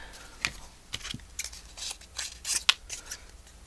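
Scissors snipping in a sequence of sharp, crisp cuts spaced irregularly, close and clear with no talking.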